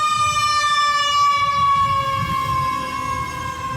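A loud emergency vehicle siren holds a steady, slowly falling wail close by, with a low engine rumble beneath and no talking.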